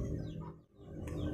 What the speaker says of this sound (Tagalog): magpapakain po tayo ng mga manok.